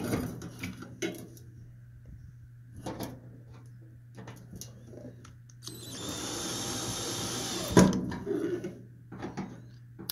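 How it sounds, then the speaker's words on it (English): A power drill whirs loudly for about two seconds after scattered clunks and handling noises, then stops; more light knocks follow in an otherwise quiet room while a Whirlpool dryer belt is being changed. "I'm actually going to speed up the process by using my drill"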